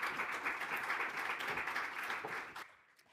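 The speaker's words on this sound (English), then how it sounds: "Let's give her one last round of applause." An audience at a conference livestream applauds a speaker. The clapping is moderate and continuous, then fades out abruptly near the end into quiet.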